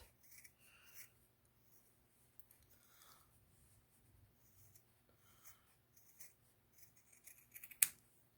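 Scissors snip fabric for bird-wing ornaments in a few quiet, scattered cuts with soft rustling between them, and a sharper click near the end.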